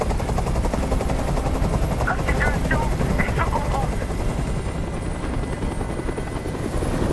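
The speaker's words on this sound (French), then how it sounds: "Je peux plus supporter ce bruit! Fais dégager cet hélicoptère, maintenant!" Steady, loud whirring of a hovering helicopter's rotor in Detroit: Become Human fills the scene, with brief synthetic chirps and a voice under the drone.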